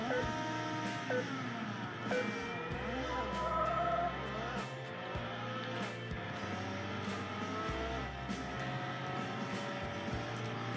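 Racing car engines whine and shift with intermittent tire squeals and skids in the video game Need for Speed Hot Pursuit, played on a 2007 iMac; a steady, moderately quiet mix of engine drones and short screeches.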